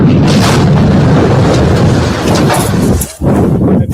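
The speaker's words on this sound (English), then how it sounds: "And the baby completely explodes with the kitten." Loud, sustained explosion rumble in a propaganda video showing a child with a kitten in a square, a dense roaring blast that fills the whole stretch with a brief dip near the end.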